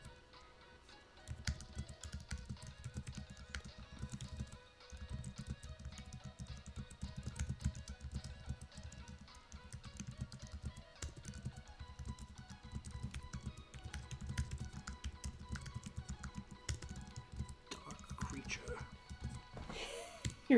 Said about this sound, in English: You're really going nuts on that keyboard over there.